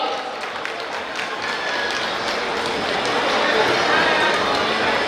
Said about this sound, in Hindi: जोरदार तालियों से स्वागत करें एक बार।